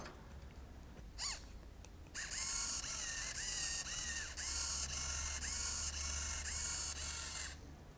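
Small servo motor swinging a micro:bit-powered waving arm, a close whirring, ratcheting buzz that starts after a couple of quick clicks and pulses back and forth in even repeated sweeps for several seconds before stopping.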